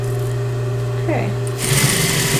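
Sewing machine stitching a make-up bag with a steady mechanical whir, pausing briefly as the needle sets and the fabric turns, then running on fast and close while someone talks.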